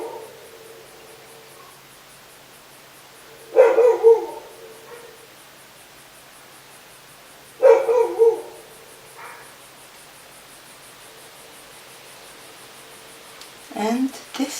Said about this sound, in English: That's my dog barking there.